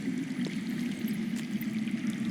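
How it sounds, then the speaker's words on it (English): Water running underground in a Game of Thrones game, a steady gurgling trickle and pour that carries on evenly and fairly close, with no one talking. "I hear water. From underground."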